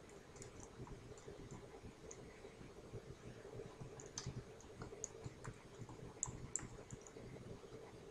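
Typing on a computer keyboard while filling a spreadsheet cell, quiet scattered clicks in short irregular bursts against a soft background hum, with nobody speaking.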